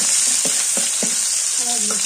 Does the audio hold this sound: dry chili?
yes